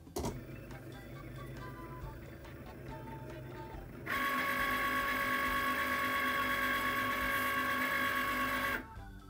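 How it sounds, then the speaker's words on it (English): A Cricut cutting machine runs through a craft project, a steady mechanical whir that starts low and then jumps to a louder, bright motor hum that holds for several seconds before stopping near the end, with no talk. "we're now just going to press continue, turn on our Cricut"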